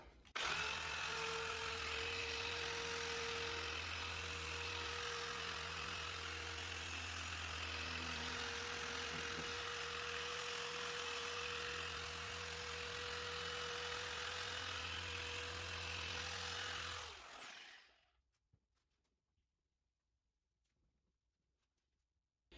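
A polisher with a large pad buffs an old, faded headlight lens, droning with a loud, steady motor whir for about seventeen seconds before spinning down into near silence.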